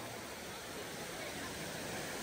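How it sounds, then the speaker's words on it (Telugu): The Banjhakri waterfall near Gangtok, Sikkim, gives a steady, dense roar of falling water that fills the whole clip without a break. "బంజోగిరి వాటర్ ఫాల్స్ మనసు దోచుకున్నాం"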